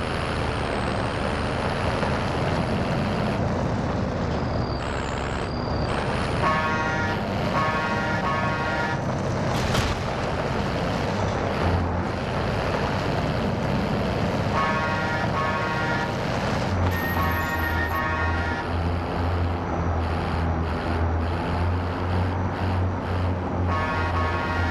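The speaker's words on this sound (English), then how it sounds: "I'm driving, watch out." A vehicle is driven in Call of Duty Warzone, with a loud continuous engine drone and road rumble throughout, occasional tonal whines and shifting pitch as it moves, heard without talk.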